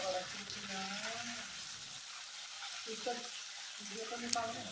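Potato wedges frying in a pan with oil and being stirred, a steady soft sizzle with scraping stir movements, fairly close and moderate in volume.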